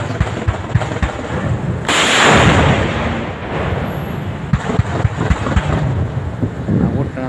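A 155 mm wheeled self-propelled artillery gun fires during a Thai navy exercise on the Andaman coast, giving one loud blast with a long rumbling tail over steady outdoor noise and crackling background activity.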